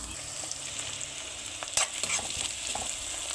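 Okra sizzles while it fries in a pan, with the clink and scrape of a spoon stirring it now and then. The frying is close and steady, with no voices.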